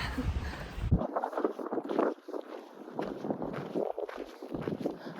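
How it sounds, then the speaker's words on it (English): Gusty wind buffets the microphone in low rumbling bursts, with footsteps crunching along the Colorado Trail beneath it. "It's also quite windy."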